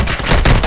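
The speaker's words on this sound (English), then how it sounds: "I'm sniping!" Sniper rifle in Modern Warfare firing, heard as loud, sharp gunshot cracks packed into a short burst with booming low-end tails.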